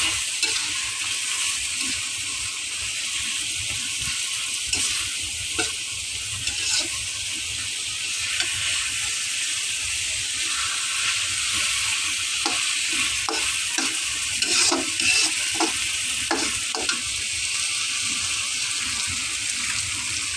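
Fried bata fish and onions sizzle loudly in a pan under continual stirring, with scraping and clinks from the spoon over a constant hiss for about twenty seconds.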